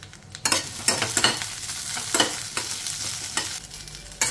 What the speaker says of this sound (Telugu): చూడండి పచ్చిమిరపకాయలు లైట్గా వేగాయి